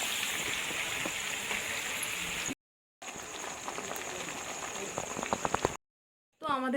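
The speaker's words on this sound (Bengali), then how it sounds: "উনুনে মাছ ভাজছে ইলিশ মাছ ভাজা হচ্ছে" Steady crackling sizzle of hilsa fish frying in hot oil in a pan on a stove, close and continuous, with brief gaps and a few louder pops.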